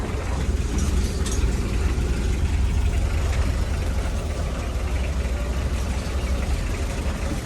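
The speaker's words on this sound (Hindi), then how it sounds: "सामने ट्रैक्टर आ रहा है" A tractor approaches along a road, its heavy engine sending up a steady low diesel rumble that stays fairly constant against outdoor background noise.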